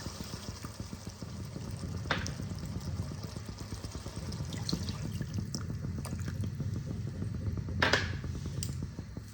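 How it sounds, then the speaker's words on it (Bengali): Hot water poured into fried spice paste for a Bengali fish curry, a steady close liquid pour and bubbling in the pan with a couple of brief clinks. "আমি এই পর্যায়ে দেখো গরম জল আমি দিয়ে দিলাম।"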